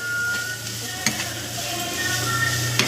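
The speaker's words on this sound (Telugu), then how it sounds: "పచ్చిమిరపకాయలు ఇలా వేసుకొని ఫ్రై చేసుకోవాలి బాగా." Green chilies frying in a pan for street-style egg fried rice, a steady close sizzle with a few clinks and scrapes of a stirring utensil, no talk.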